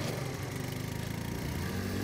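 A scooter (moped) engine running steadily and loud with a continuous buzzing drone throughout, no voices.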